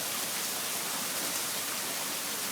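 Rain falls in Austin, Texas, a loud, even, continuous hiss of heavy rainfall with no voices.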